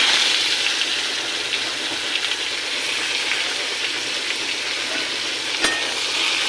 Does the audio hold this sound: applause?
no